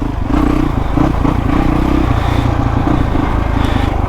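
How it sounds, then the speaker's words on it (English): A 2005 Honda CRF450X dirt bike rides along loud and close, its engine droning with throttle surges while the chassis clatters and rattles over rough ground, no voices. "the video of joyriding Marco's 2005 CRF450X"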